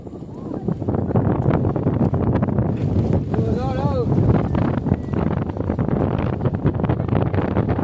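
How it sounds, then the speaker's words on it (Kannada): Strong monsoon wind during heavy rain in Coorg, roaring steadily as close, loud microphone buffeting, with muffled voices and a brief whistling tone in the middle. "ಗಾಳಿನೂ ಅಷ್ಟೇ ಜೋರಾಗಿ ಬಿಡ್ತಾ ಇದೆ"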